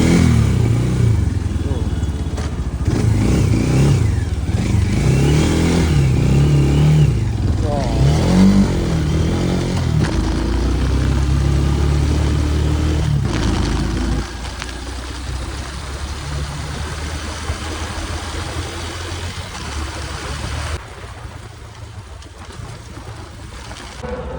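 A 125cc geared motorcycle engine drones steadily while riding at night in Busan, with loud wind rush throughout and a deeper, rougher engine tone in the second half.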